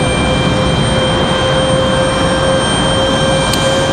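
An Icelandic airliner touching down at Raleigh-Durham airport, a loud sustained jet engine roar with a steady whine tone, continuous and close, with no voices.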